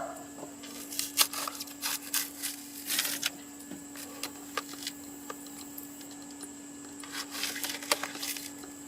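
A kitchen knife trimming dried material along brick moulding around a door, producing irregular light scraping and ticking cuts in short clusters over a steady faint electrical hum.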